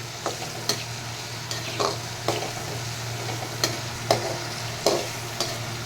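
Chicken masala gravy base with small shallots and onion being sautéed in a pan, giving a soft steady sizzle with light scraping stirs every second or so. The sound is close and moderately quiet, with no talking.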